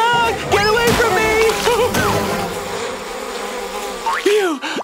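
Cartoon bees swarm with a loud, continuous buzzing drone, wavering in pitch, while animated character voices cry out over it.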